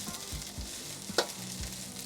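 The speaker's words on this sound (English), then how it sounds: "sizzling" Beef fried rice sizzles and crackles in a hot pan over medium-high heat, with a few soft scraping stirs and one sharp clink.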